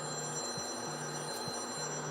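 A phone rings in a repeating pattern of tonal bursts, two rings with short pauses between, moderately loud and steady.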